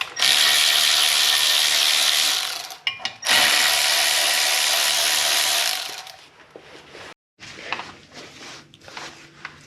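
A ratchet whirs loudly and steadily in two long runs while removing 19 mm lug nuts from a 2007 Ford Fusion during a brake job. Quieter mechanical clicks and handling noises follow.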